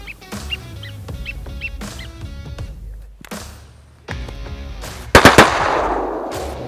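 Shotguns fire at ducks, blue-winged teal, during a hunt: a loud, close volley of rapid blasts near the end, after a stretch of birds chirping and calling in the open.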